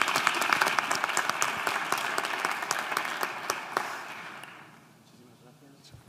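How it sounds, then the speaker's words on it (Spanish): Audience applause at a workplace-health conference, a loud, dense burst of clapping that holds steady and then fades out over the last couple of seconds, with some speech under it. "Un fuerte aplauso"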